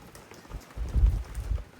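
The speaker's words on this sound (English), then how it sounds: "It's good morning, raining here." Light rain falls on a sailboat on a windy morning, a faint, steady patter with low, gusty rumbles swelling in the middle and toward the end.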